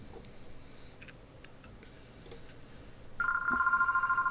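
A telephone rings with a sustained electronic tone that cuts in sharply near the end after quiet ticking, fairly clear over a low room hum, picked up by two microphones.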